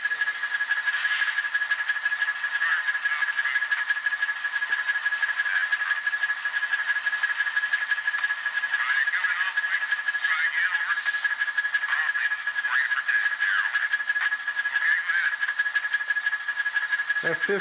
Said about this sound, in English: What you just heard there was F14, which is the talking defect detector sounds